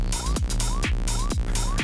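An initialised Serum synthesizer patch runs through an arpeggiator, repeating a buzzy synth figure in a quick regular pulse with sliding pitch blips, loud and alone.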